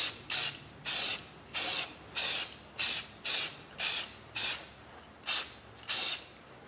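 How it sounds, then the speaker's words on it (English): Aerosol spray can coating the lower intake manifold of a 2007 Hyundai Tiburon SE, heard as about ten short, even bursts of hissing spray separated by brief pauses, close and clear with no talking. "spray her down, get an even coat on there."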